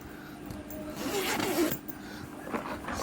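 A zipper runs along a school bag as it is packed, a steady scratchy rasp that builds over about a second and a half, followed by a few lighter zip and rustle sounds, close by.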